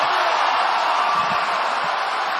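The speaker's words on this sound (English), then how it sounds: "Crowd roars in approval for Santos as she returns to her feet" An arena crowd roars its approval at a women's MMA bout between Santos and Blanchfield, a loud, steady wall of cheering noise that holds for the whole stretch.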